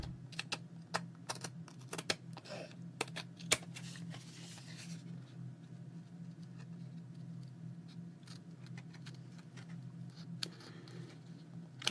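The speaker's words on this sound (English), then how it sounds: "Take my long neck scissors and trim this off." Long-neck scissors trim paper for an art journal in a quiet string of small, irregular snips and clicks close by, some sharper than others, over a faint hum.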